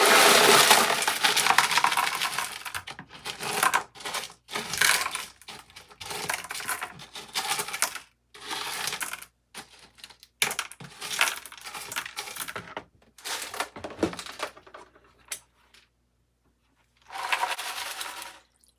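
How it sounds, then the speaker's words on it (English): Gold paydirt being panned in water, coarse gravel material swirled and tipped in a pan, giving repeated scraping, rattling and splashing bursts with short pauses between them, close and fairly loud. "here's the +10 material. We're going to pan it out really quick"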